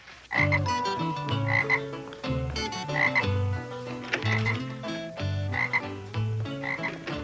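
A frog croaks in loud repeated bursts alongside a lively musical score that plays throughout, the croaks fairly near and standing out over the melody.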